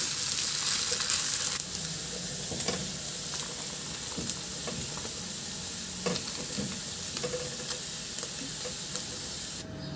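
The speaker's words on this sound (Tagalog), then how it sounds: "I-stir fry ko na rin yung atay na binabad natin kanina." Marinated liver stir-fried in a pan for menudo: a continuous close sizzle and hiss with intermittent scraping and stirring clinks, no voices.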